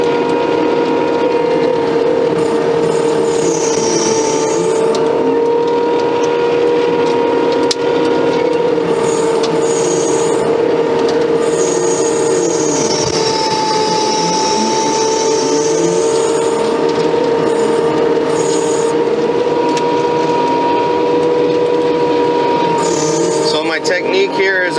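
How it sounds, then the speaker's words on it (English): A skid steer with a stump grinder attachment grinding tree stumps, a loud continuous mechanical whine and engine drone with rasping, shifting bursts as the cutter bites into the wood, while a person talks over it. "stump grinder attachment. It's pretty impressive."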